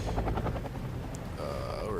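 A Mi-2 helicopter in the video game Wargame: AirLand Battle gives a rapid rotor chop that is strongest at first, then settles into a steady, fairly close drone.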